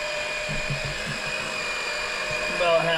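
A small engine-driven pump runs aboard a commercial boat, giving a steady, high mechanical whine with a constant motor drone, while brief low voices murmur in the background.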